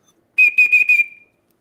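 A 3D-printed PLA whistle blown in a workshop: one shrill, steady, piercing tone lasting just under a second, broken into four short pulses, loud and close in otherwise silent surroundings.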